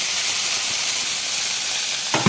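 Ganges shrimp sizzle in hot oil in a pan, a loud continuous bright hiss of frying, with a brief stirring scrape near the end and no talking.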